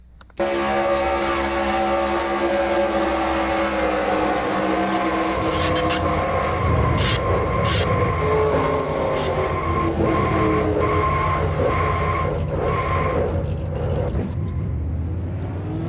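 Onboard sound of a stock car in a Nationwide Series racing video game: a loud, steady engine roar held throughout, with long tire skids and squeals layered on top.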